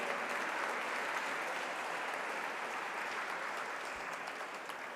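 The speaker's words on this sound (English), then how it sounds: "May I ask the audience to put a great round of applause." Sustained applause from an audience at the inauguration of a science and spirituality forum, marking an International Day of Peace event; steady dense clapping, fairly loud, fading slightly toward the end, with no talking.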